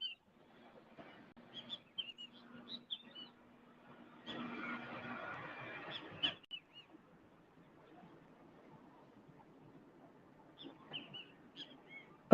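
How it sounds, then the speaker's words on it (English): A king kiskadee calls outdoors in the afternoon with scattered short, harsh, crackling notes, faint and somewhat distant, coming in brief bursts separated by quiet. "A little bird you hear right there crackling. That's the king kiskadee."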